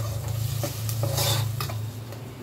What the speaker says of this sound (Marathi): आता हेच आपण तेल सुटेपर्यंत परतून घेऊया